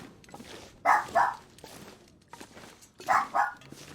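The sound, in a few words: dog barking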